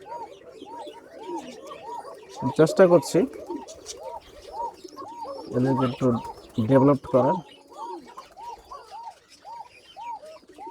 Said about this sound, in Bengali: এই যে পাশাপাশি বাসে একটা ডাকছে যে কালো কোকা